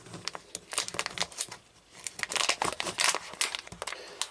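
A heat-sealed resealable ziplock first aid kit bag for acid attacks torn open by hand, a close, crackly run of ripping and crinkling plastic in uneven bursts with no talk.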